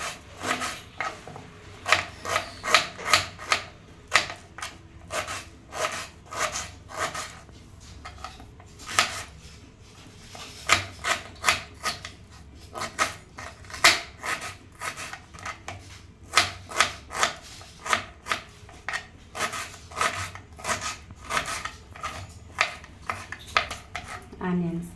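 Onions being chopped with a knife on a cutting board while making egg curry, a long run of sharp, irregular taps and knocks up close, with a voice speaking at times.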